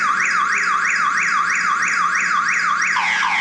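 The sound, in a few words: phone anti-theft app alarm going off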